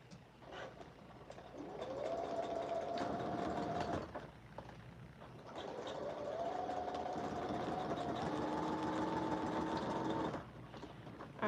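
A sewing machine runs in two long straight-stitch bursts, steady and close, joining fabric with right sides together, with a short pause between the runs.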